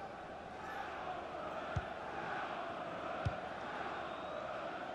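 A stadium crowd in the FIFA 21 football game keeps up a steady, dense roar, with two brief thuds standing out briefly over it.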